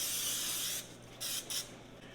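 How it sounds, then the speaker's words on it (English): Aerosol vegetable oil spray coated onto a whole chicken before a rub goes on, for beer can chicken on a Weber grill: a long steady hiss, then two short close bursts after a pause. "hit it with some vegetable oil spray to help our rub stick to it"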